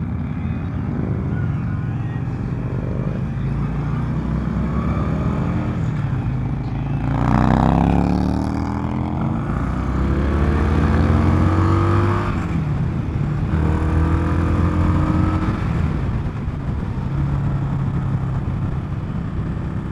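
A 2020 Indian Scout Bobber motorcycle being ridden on a demo-day test ride, with a loud, steady engine drone and a rising rev around the middle, close and continuous throughout.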